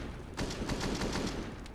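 Pistol fire in a Counter-Strike match, a rapid run of sharp shots in quick succession, moderately loud and close.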